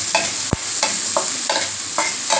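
Potatoes being sautéed for a stir-fry, a spatula stirring and scraping the pan in a steady rhythm of short strokes over a soft continuous sizzle, with one sharp knock early on; close and moderately loud, no talking.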